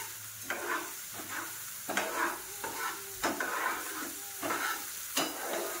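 Dal and peanuts are stirred and fried in a pan, sizzling under a low hiss that rises in repeated bursts as a spatula scrapes through them in an uneven rhythm, with no voices.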